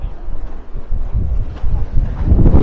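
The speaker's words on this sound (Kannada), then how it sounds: "ಗಾಳಿ ಅಂತೂ ಹೆವಿ ಗಾಳಿ ಇದೆ" Strong, gusty wind at the Ooty hill station in the Nilgiris buffets the microphone with loud, continuous low rumbling and roaring close up.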